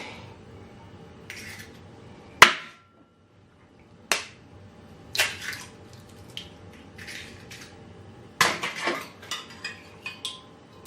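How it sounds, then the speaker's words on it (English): An egg is cracked into a blender: several sharp cracks and taps against the hard container, spaced a few seconds apart, followed by soft wet clicks and small drips. "I'll just break my egg inside"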